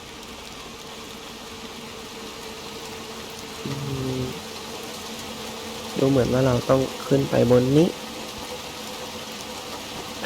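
Steady rain pours in the dark, eerie world of the video game Little Nightmares 2, a constant hiss running through the whole stretch while someone talks over it in short bursts.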